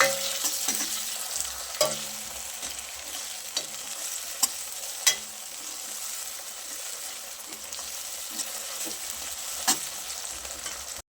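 Tomatoes and chopped green chillies fry in oil for a Gujarati dried-bean curry, a continuous close sizzle broken by repeated sharp scrapes and knocks of the spoon against the pan, without any speech.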